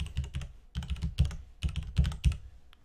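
Rapid bursts of close keystrokes on a computer keyboard come in clustered runs separated by short pauses, crisp and clicky with no voices.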